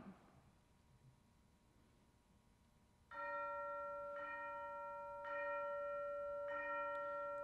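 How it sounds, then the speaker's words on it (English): Orchestral chime tolling in Strauss's Allerseelen, marking All Souls' Day: four clear, ringing bell strokes at steady intervals after a quiet opening, each note sustaining and overlapping the next. "the tolling bell for All Souls' Day"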